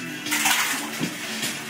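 Water pours and splashes into an ice bath tub in a soft, steady stream with a few gentle surges, fairly quiet and heard with no talking.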